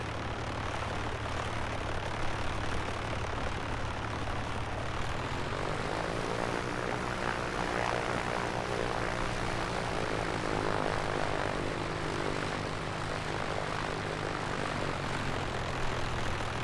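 Simulated Piper Comanche piston engine in the A2A flight simulator spooling up for takeoff, a steady propeller drone rising in pitch and loudness partway through, then holding a strong continuous roar with a harmonic buzz, no talking over it.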